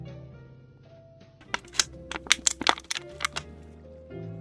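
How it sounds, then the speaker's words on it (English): A plastic water bottle crunched right against a microphone gives a quick cluster of sharp, loud crackles and snaps over about a second and a half, standing alone over a low background hum. "Do you want to just crunch the bottle in the mic?"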